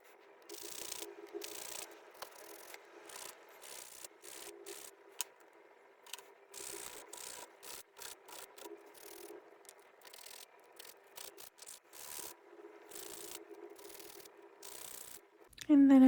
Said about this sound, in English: I really enjoyed the sound of like this sped up filing